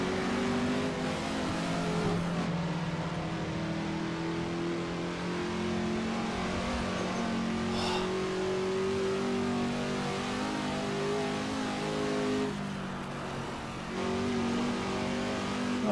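A Mazda race car engine in Assetto Corsa drones steadily at high revs, loud and continuous, with brief dips and shifts in pitch around gear changes and a short throttle lift near the end.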